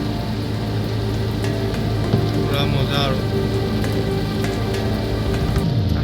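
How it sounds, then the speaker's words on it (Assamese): Heavy rain beats on a car driving home from the airport, a loud, constant drumming wash over the low road hum, while a person speaks briefly. "কি বৰষুণ আৰু এনেকুৱা বৰষুণত গাড়ী চলাই গৈ থকা"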